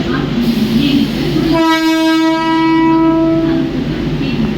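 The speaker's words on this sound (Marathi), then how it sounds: "10 hours 29 minutes fast local for Mumbai Chhatrapati Shivaji Maharaj terminus is arriving shortly on platform number 4" A Mumbai fast local train bound for Chhatrapati Shivaji Maharaj Terminus pulls into platform 4 of a station and sounds a long, loud, steady horn blast over continuous rumbling and rail clatter, with faint voices underneath.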